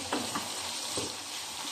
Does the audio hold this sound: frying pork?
yes